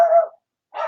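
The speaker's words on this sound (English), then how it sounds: "Sorry about the dogs." Two short close dog barks separated by a brief silence, loud and sharp, with nothing else heard.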